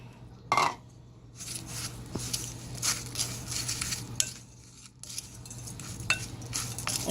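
Grated Parmesan cheese being stirred together in a batter bowl, with close scraping and clinking of a utensil against the bowl, continuous and fairly quiet, no talk.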